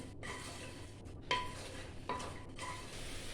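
Vegetable rice being stirred with salt in a pan, soft scraping strokes over a steady background sizzle, with a couple of light metallic clinks from the utensil against the pan.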